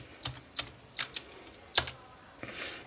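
A password being typed on a computer keyboard: about half a dozen separate, crisp keystrokes at an unhurried pace, close and fairly quiet, with no speech.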